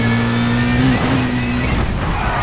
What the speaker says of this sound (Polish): zmienione dźwięki samochodów.